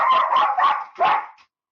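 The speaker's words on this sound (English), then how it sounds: "this is my dog. He's now telling me that he's back" A dog barks close and loud, four quick barks in a row, then falls silent.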